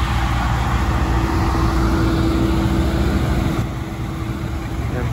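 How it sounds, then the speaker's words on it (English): A loud BMW E46 engine at a supercar outing in Abuja, Nigeria, roaring steadily up close with a sustained droning tone for several seconds before easing slightly in level. "this is possibly the loudest BMW E46 in Nigeria"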